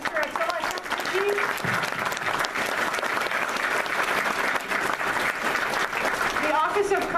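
Steady applause from a community event audience fills the room at moderate loudness, many hands clapping continuously while a voice talks faintly underneath at times.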